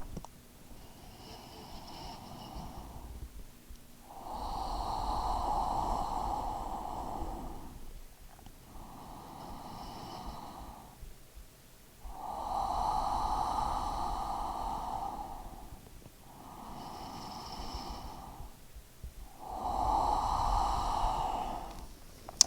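Slow, deep breaths during a yoga practice, three long loud exhales around 5, 13 and 21 seconds, each preceded by a softer inhale, close and breathy with no talk.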